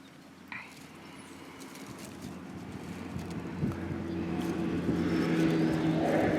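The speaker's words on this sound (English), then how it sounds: "I don't know why there's so much traffic today" Steady road traffic rumbles in the background, a broad low wash of passing vehicles building gradually louder toward the end, with no talk over it.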